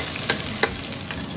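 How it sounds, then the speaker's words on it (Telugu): Tomato rasam ingredients with chili are stirred in a hot pan, giving a soft continuous sizzle and two quick scraping strokes of the spoon, close and brief. "So let's give it a mix, let's star it well. So అలా బాగా కలపండి."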